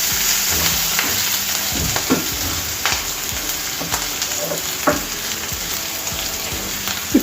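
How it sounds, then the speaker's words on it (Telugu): Ginger garlic paste being stirred into a frying pan for a raw banana fry, with steady sizzling of hot oil and scattered scraping clicks of a spoon, close and alone without speech. "ఇక్కడ ఒక స్పూన్ వరకు అల్లం వెల్లుల్లి పేస్ట్ వేసి ఇదంతా కలిపేయాలి"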